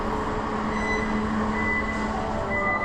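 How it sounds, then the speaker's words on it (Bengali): Barcelona metro train, a continuous close rumble with steady tonal whine, running evenly without voices. "Metro rail."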